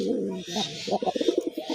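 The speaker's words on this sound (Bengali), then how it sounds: "দেখেন কিভাবে নটটা ঘুরে ঘুরে ডাকতেছে দেখেন দেশি কবুতর মানে ডাকের রাজা" A male desi pigeon coos in a rolling, repeated rhythm of short pulsing calls, close and fairly loud, building in the second half.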